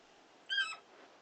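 A single short bird call from a feathered companion in Final Fantasy XVI, a brief bright chirp rising and falling over quiet game ambience, heard alone with no talking.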